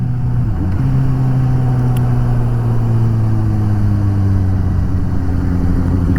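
A Suzuki GSX-S750 motorcycle engine hums steadily and loudly at low revs, its smooth even drone shifting pitch slightly as it runs, with no voices.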